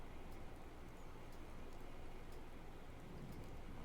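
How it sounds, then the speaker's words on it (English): Steady rain hissing in the video game Fallout 4, a constant dense patter with no clear thunder, moderately quiet and unbroken. "I've always loved the rain"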